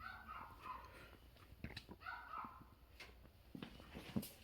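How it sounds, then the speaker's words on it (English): A dog barks, yips and whimpers in quiet, scattered bursts, fairly faint and a little distant, with no talking. "My dog Luna's going crazy"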